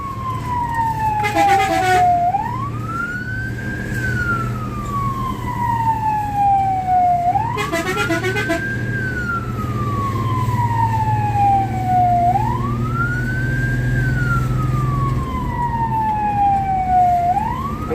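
A fire engine siren wails in rising and falling sweeps, three full cycles, as the truck moves through traffic to a grass fire. Short pulsing horn bursts cut in twice over a steady low engine rumble, all loud and close.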